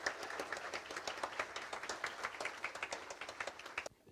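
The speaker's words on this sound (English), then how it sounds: "A big round of applause for them." Audience claps for participants at an inter-school declamation contest, a lively run of many distinct hand claps at moderate distance that carries steadily and then stops abruptly near the end.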